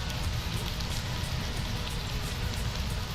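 A clay bar is rubbed by a plastic-covered hand across the contaminated paint of a battered Nissan 350Z, making a steady, close gritty hiss and scrubbing noise with no pauses.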